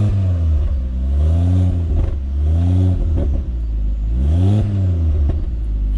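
Turbocharged engine of a decatted Ford Focus ST225 revs loudly and repeatedly, rising and falling in three or four strong sweeps with a deep, continuous drone close by.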